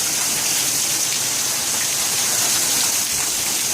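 Heavy rain pours off a roof during a storm that floods a backyard, a loud, dense, unbroken roar of falling water close by with no talking.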